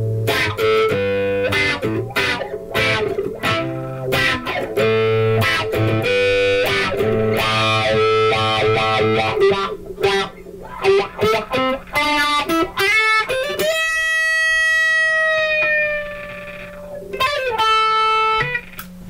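A 1965 Gibson Melody Maker electric guitar runs through a Crybaby GCB 95 wah pedal, playing distorted, choppy chords and then sustained, sweeping single notes at close range, with no voices.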